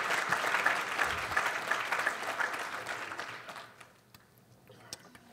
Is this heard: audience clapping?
yes